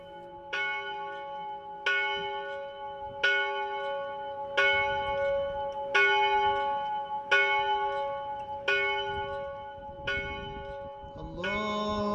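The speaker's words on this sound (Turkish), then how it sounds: "şimdi 100 yıldan sonra bu kilisede çan çalmaya başladı" A church bell rings in the bell tower of an Armenian church in eastern Turkey. It strikes steadily about every second and a half, each resonant toll overlapping the hum of the last, loud and alone.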